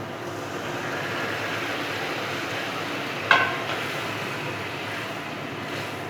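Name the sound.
boiled lentils cooking in fried spice mix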